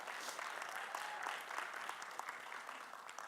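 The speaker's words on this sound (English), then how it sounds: "Applause for the demo." An audience applauds after a demo, a dense, even wash of many hands clapping at fairly low level, sustained throughout with no voices.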